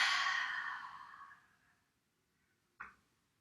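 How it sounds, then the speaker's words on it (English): One long, breathy exhale that fades over about two seconds during a Pilates mat session, followed after a pause by a short, sharp breath, close and quiet. "Big breaths in and out."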